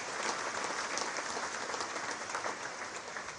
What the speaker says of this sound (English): So let's make an applause to the FIFA administration.